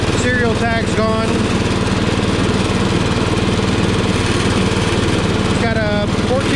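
A 1960s Power King tractor with a 14 horsepower engine mows steadily, its loud, close engine droning at an even pitch throughout, with a person talking over it in stretches.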